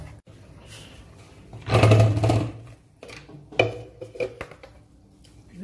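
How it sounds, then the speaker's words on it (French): A kitchen blender gives a short, fairly loud whirring pulse as it purées cooked rice with water, surrounded by lighter clinks and handling noises of kitchen utensils nearby. "Maintenant, on va prendre notre riz ici, on va mixer."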